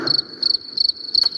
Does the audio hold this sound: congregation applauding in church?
no